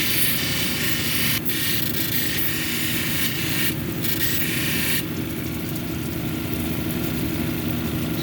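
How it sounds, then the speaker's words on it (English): A zebra calcite cabochon being ground on a 280 grit wheel, heard as a steady machine whir with a continuous gritty hiss that changes texture in brief bursts as the stone is pressed to the wheel. "Now we're going to move the 280 grit to take those grinding marks off."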